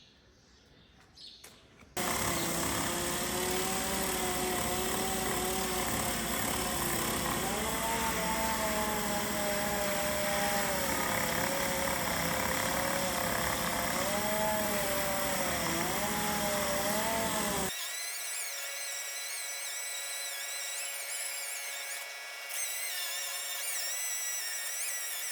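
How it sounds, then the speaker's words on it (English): A DA sander grinds rust off a welded round drawbar on a flat bed straw trailer, a loud continuous whirring drone whose pitch wavers under load, then shifts to a thinner, higher whine near the end. "so that's giving that a bit of a sand down."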